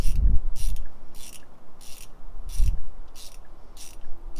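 ARP head studs being hand-tightened on an LS1 engine, a regular series of short metallic ratcheting clicks at an even rhythm, close and fairly quiet, with a couple of soft low thumps.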